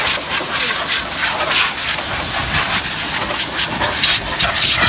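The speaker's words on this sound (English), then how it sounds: "Just spray the Terra-Kleen." Terra-Kleen cleaner sprays onto a car engine during an engine wash, making a steady, close hiss that runs unbroken for the whole stretch.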